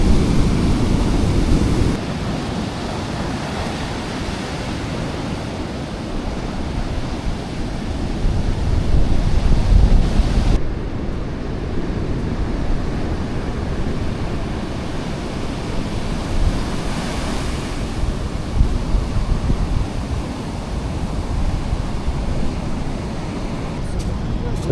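Ocean surf breaks continuously at Haeundae beach in Busan after rain, a loud, broad roar of waves mixed with wind buffeting the microphone, with no talking over it.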